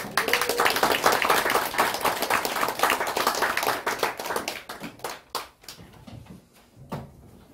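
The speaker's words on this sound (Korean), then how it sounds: "우리 박영범 교수님 나오실 때 박수로 환영하겠습니다" Applause from an audience welcoming a guest professor to a church Christmas lecture event, a dense burst of clapping that thins into scattered claps toward the end.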